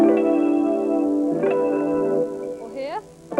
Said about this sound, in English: a good way of doing this is to use harmonics together to form a chord made up all of harmonics